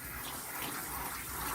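Running water rinses a poodle during a home bath, a steady, close gush like a tap or spray hose pouring without a break, with no voices.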